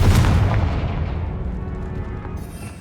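A Confringo blasting spell explodes in the Hogwarts Legacy video game, a single loud, close boom whose heavy low rumble decays steadily over a few seconds, with no voice.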